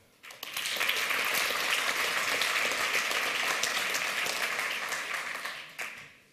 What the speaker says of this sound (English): I will actually ask you to give a big clap to the organizers